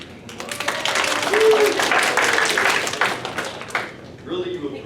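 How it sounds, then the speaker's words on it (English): An audience applauds in a steady, dense wash of clapping that swells in the middle and tapers toward the end, with voices mixed in beneath it. "Really, you applauded the efforts of the half"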